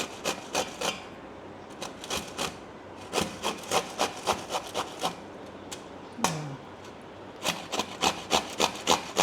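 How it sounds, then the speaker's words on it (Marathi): Raw green mangoes are grated by hand on a grater, giving close, rhythmic rasping strokes in quick runs with brief pauses between them, and no voices. "मी सगळ्या कैऱ्या किसून घेणार"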